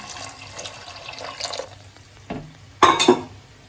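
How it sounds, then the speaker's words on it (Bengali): Water is poured over jackfruit seeds in a pressure cooker in a few short, splashy pours, the last and loudest near the end, with quiet handling noises between. "এবার এই কাঁঠালের বীজের পরিমাণ অনুযায়ী আমি জল দিয়ে দিলাম।"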